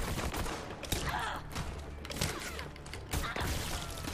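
Rapid bursts of gunfire in the video game Borderlands 3, a busy run of sharp cracks and thuds layered over a dense, steady game soundscape at moderate level.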